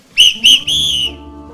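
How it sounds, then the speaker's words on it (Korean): Three sharp, loud whistle blasts in quick succession at a ceremony, two short toots followed by a longer sustained one, clear and close. "이 호루라기로 다시 한번 경고를 보냅니다"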